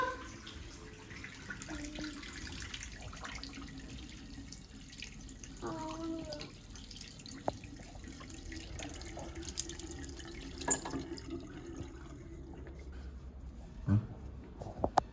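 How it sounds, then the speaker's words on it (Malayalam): A water tap left running in a home, a steady faint rush of flowing water throughout with occasional clunks and drips, and brief background sounds nearby. "പോയി വെള്ളം ഓഫ് ചെയ്യ്."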